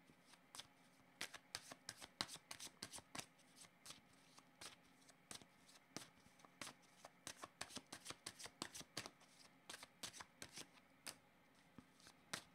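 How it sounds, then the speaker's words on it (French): A deck of black playing cards is shuffled in steady, crisp riffling bursts, quiet and close, with no talking. "Je vais changer de jeu de cartes. Je vais prendre mes cartes noires."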